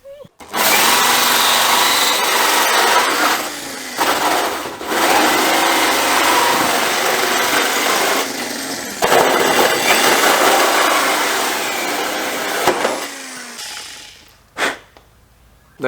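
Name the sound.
power drill drilling a big hole in a D22 Navara for a snorkel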